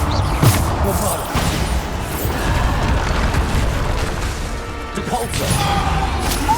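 Bombardo spell blasts in the Hogwarts Legacy video game: loud, dense booming crashes and bursts that overlap continuously with impacts and combat noise, heard close.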